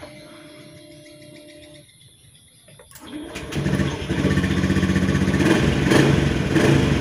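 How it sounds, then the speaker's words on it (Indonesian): A Honda Beat fuel-injected motorcycle, freshly serviced with an oil change, starts after a quiet moment and settles into a close, steady running idle with a slight rise in revs. "ini saya tes, ini motor hidup normal ya"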